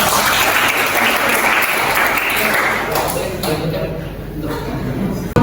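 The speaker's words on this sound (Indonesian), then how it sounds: "Beri aplaus untuk kelompok yang kedua." Classroom applause for a student group presenting in a school lesson, a dense burst of many hands clapping at once that swells and then tapers over several seconds, with voices mixed in.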